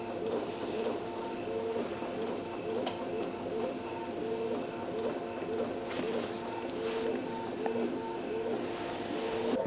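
Printer from a documentary scene playing on a screen, a steady repetitive mechanical whirring and clicking running throughout at moderate level, with faint voices in the background.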